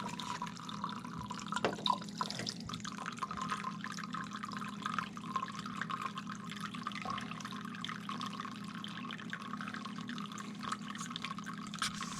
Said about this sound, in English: And here comes the water that's in the hot water tank.